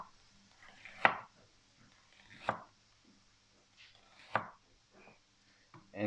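Knife slicing an onion into thin strips on a board, four or five crisp separate chops spaced about a second apart, close and clear with quiet pauses between.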